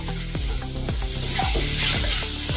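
Ginger, garlic and green chili paste frying in a pan for stuffed brinjal, a steady close sizzle with a few soft stirring scrapes running throughout, no voices.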